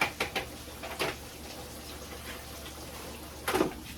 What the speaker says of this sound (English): So I'm just gonna put them down inside the grease and let them cook.